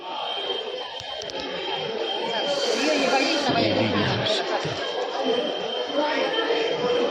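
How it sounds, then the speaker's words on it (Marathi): Dense crowd chatter at a busy temple, many overlapping voices in a continuous hubbub that grows slightly louder midway, with a low rumble passing briefly. "गर्दी"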